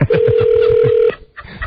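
A telephone call is placed during a radio talk show: a loud, steady line tone holds for about a second over pulsing beeps, then cuts out briefly before the line sound resumes.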